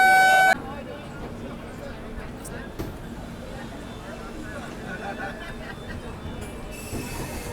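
The 22465 Baba Baidyanath Dham Express runs through Jharkhand, heard from inside the coach as a steady rolling rumble with faint wheel squeal and a murmur of passengers, after a brief tone at the start.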